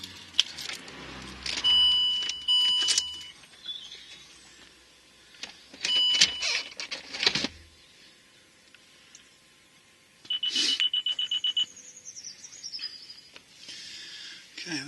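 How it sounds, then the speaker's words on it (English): A 2007 Land Rover Discovery 3 having its ignition switched on: clicks, a short electronic beep and a whirring motor burst come in separate bursts, with a steady quiet hum between them and no talk. "Let's put the ignition on."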